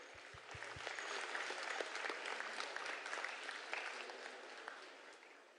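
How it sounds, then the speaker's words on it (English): Warm applause from gala dinner guests for orchestral ensembles, sustained clapping that swells and holds steady, fairly distant in a large hall, after a few low thuds at the start. "Can we give them a round of applause"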